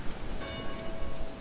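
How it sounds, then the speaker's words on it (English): Church bells ringing in the DayZ video game, a faint, steady tolling set back behind a low rumbling ambience of an in-game city street, with no voices. "Church bells are ringing."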